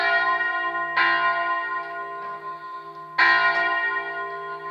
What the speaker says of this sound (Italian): Mentre sfumano le campane